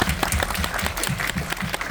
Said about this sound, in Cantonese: Hey, clap， 拍手。